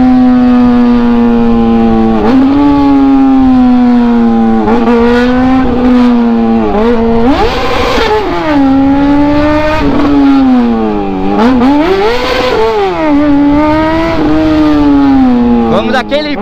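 A Honda CBR motorcycle is ridden fast through traffic, its engine a loud, close, continuous whine that climbs and drops repeatedly with the throttle and gear changes.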